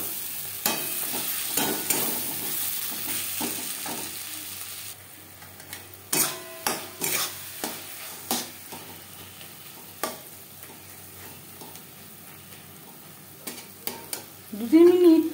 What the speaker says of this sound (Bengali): দু 3 মিনিট টমেটোর সাথে নাড়াচাড়া করে নেওয়ার পর দিয়ে দেব মশলা ধোয়া জল।